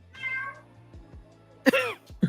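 A house cat meows clearly at close range: one drawn-out meow, then a pause with faint rustling, then two sharper, louder meows.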